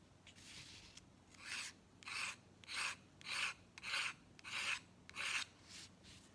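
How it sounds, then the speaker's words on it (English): A palette knife scrapes wet, watery paint across paper while making collage papers, eight rhythmic rasping strokes about a second apart, close and fairly soft, without talk. "get some really nice effects from scraping. Here I'm just using my palette knife."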